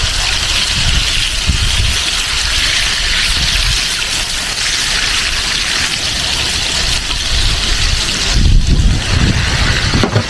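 Strong steady wind buffeting the microphone outdoors beside a wood fire used for cooking, a constant roar with gusts, no voices present.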